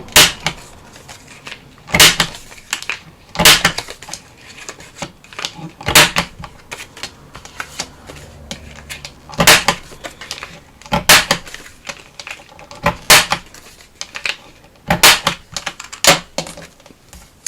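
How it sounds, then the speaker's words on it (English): Paper cards having their corners rounded with a corner punch, sharp crisp clacks repeating every second or two in irregular pairs, close and alone over a quiet room. "I think I'm going to round the corners."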